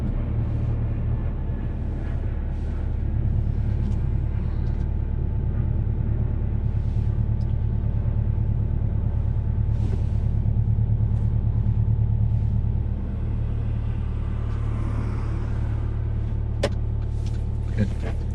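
A car cruising along a UK dual carriageway with a learner driver at the wheel, heard from inside the cabin as a continuous low road-and-engine rumble that swells slightly midway before settling.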